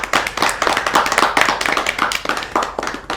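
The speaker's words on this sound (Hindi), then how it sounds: "मैं चाहूँगा कि एक बार भरपूर तालियों से इस कविता का सम्मान किया जाए" A crowd claps for a poem recited at a Hariyali Teej celebration, producing a lively round of fairly close, distinct hand claps with an uneven rhythm and no voices.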